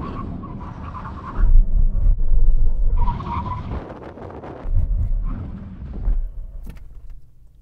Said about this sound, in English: When we reach the line, full emergency stop from 70 miles an hour.